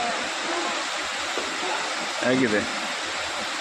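Vibhuti Falls, a waterfall, pours with a constant, loud broadband rush, and a voice speaks briefly over the roar.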